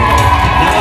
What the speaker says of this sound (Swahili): Jamani, vigelegele.